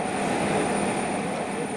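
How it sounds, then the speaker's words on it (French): A commercial airliner comes in to land at Attar airport in the middle of the desert, its engines a loud, steady roar close by with no break throughout. "Les avions commerciaux se posent de nouveau après 10 ans d'absence."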